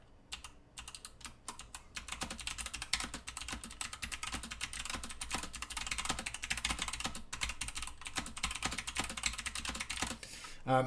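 Typing on a mechanical keyboard fitted with clicky box white switches produces a steady run of crisp, fairly quiet clicks in quick irregular rhythm, close up and without talk.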